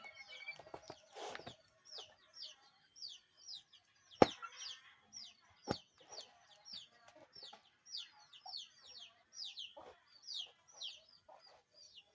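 Two chickens inside a box cluck and chirp in quick, repeated bursts, close and somewhat muffled, with a few thumps and knocks between the calls.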